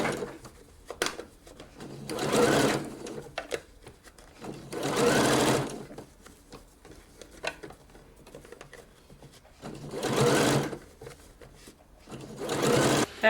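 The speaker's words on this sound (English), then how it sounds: "Going to go inside and stitch it down there." A sewing machine stitches down the seam allowance inside a puff sleeve, running in four or five bursts of rapid mechanical whirring, each a second or two long, with quiet handling clicks between them.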